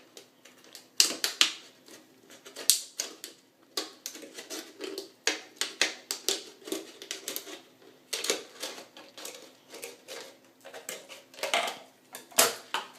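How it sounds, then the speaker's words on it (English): Scissors cutting around a plastic water bottle, a close series of crisp, crackling snips and plastic crinkles in irregular bursts with short pauses between cuts. "and then I use my scissors to go around cutting it."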